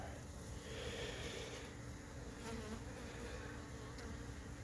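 Honeybees buzzing around an open hive, a faint, continuous close hum of many insects with no talk.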